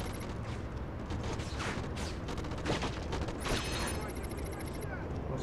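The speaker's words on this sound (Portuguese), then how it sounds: "Tá tendo tiro, hein?" Gunfire from the PS2 shooter Black crackles in rapid, fairly quiet bursts against a dense background of battle noise and mechanical clatter, with a sharper cluster of shots partway through.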